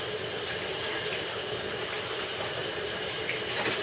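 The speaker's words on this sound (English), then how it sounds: "This time you really want to wash your hands thoroughly." A kitchen tap runs steadily while hands coated in butter and brine from preparing a turkey are washed, a constant close hiss of flowing water with no talk.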